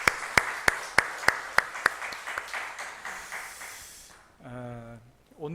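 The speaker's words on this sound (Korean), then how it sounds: "하나님 앞에 큰 영광의 박수 올리겠습니다." A church congregation at a Sunday service claps in a steady group rhythm, then the applause thins into scattered clapping and fades, with a voice or music entering right at the end.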